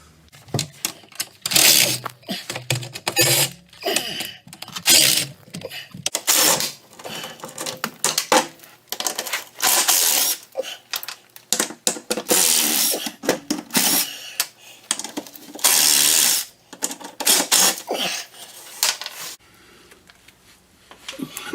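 Bolts come loose under a 2013 Polaris RZR 570, a close run of irregular metallic clicks, ratcheting and clanks that start and stop in quick bursts with short pauses between.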